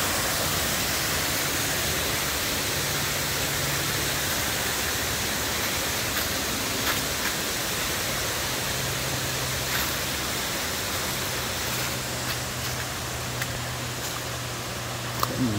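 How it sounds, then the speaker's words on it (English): Rushing water of a double waterfall where the Erie Canal Forestport Feeder empties into the LansingKill in Boonville Gorge, a steady hissing roar heard nearby, with a faint low engine hum passing underneath. "Double waterfall."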